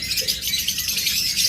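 Caged violet opaline birds for sale keep up a steady twittering chorus, bright overlapping chirps close by and even in level, with no voices.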